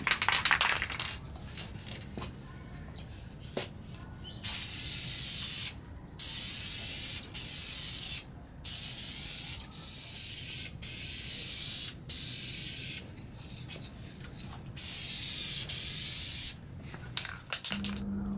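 Spray can or spray gun putting lacquer finish on a rescued wooden tray in a shop: a series of loud, steady hissing bursts, each a second or two long, separated by short pauses, close up and with no voices.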